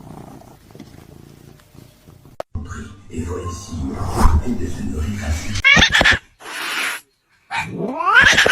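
Cat vocalising amid a mix of animal clips: purring and meow-like cries with rising harmonic sweeps near the end, close and fairly loud, interrupted by brief silences, with people talking over parts of it.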